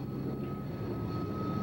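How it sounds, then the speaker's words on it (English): An AV-8B Harrier jump jet at a 1987 airshow, a steady distant engine roar with a thin whining tone riding above it, continuous and unbroken. "That's the AV-8B Harrier, an advanced version of the British Aerospace Harrier."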